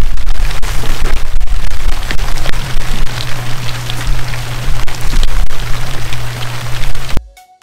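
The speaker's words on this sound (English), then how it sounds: "of course it starts to rain" Steady outdoor rain hisses loudly and evenly on surfaces at a home worksite, a dense continuous wash with a low hum beneath that cuts off abruptly at the very end.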